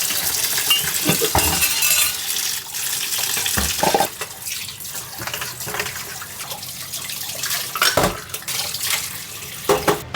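Tap water runs and splashes while a five-litre plastic jerrycan is rinsed, a steady hiss of flow broken by irregular sloshes and knocks close by, with no talk.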